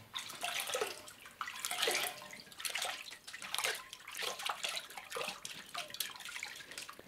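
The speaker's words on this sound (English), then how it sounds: "Now we rinse that off." Running water splashes in uneven bursts as a face is rinsed over a basin, with close, gentle gushes, drips and pauses and no one talking.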